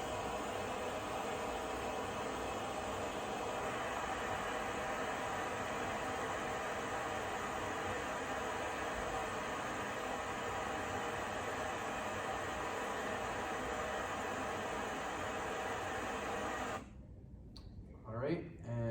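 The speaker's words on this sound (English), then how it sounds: "Jacob's going to play a white noise, and then we're going to record it using our GUI." Broadband white noise hisses steadily from a speaker for about seventeen seconds, fairly loud and unchanging, then cuts off abruptly, leaving faint room sound and a brief thump.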